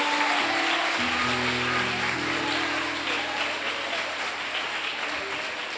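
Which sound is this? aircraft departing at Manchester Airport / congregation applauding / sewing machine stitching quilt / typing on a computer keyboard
congregation applauding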